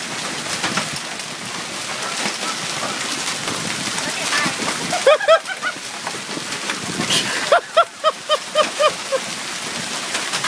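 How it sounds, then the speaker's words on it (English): Hail pounding down during a storm in Florissant, Missouri, a dense clattering hiss of ice on surfaces throughout, with a voice speaking partway through. "Look at this hail."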